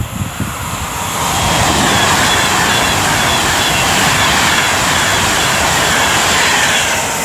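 A passenger train, service 1H15 from London Euston to Manchester Piccadilly, passes on the West Coast Main Line at Rugeley Trent Valley. It is a loud, steady, close rumbling roar that swells in after a second and holds to the end.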